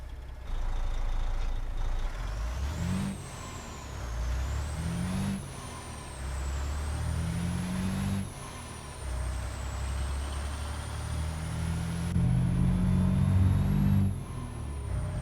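A Mack R truck in American Truck Simulator drives with a steady diesel engine drone. The engine rises and falls through repeated gear changes, and a sharp air brake hiss cuts in now and then, with no talking.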